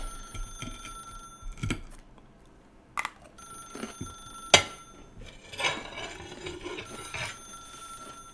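A telephone in The Stanley Parable video game rings in repeated bell-like bursts, separated by gaps holding a few sharp knocks and clatters, and the rings grow denser and busier toward the end.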